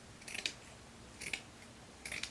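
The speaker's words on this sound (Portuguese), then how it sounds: "Deixa eu cortar aqui a metade, que ela é muito grossa." Scissors snip through thick fabric while cutting out a raglan sleeve for a beginner's coat, three quiet separate bursts of cutting spaced about a second apart, close by with no talking.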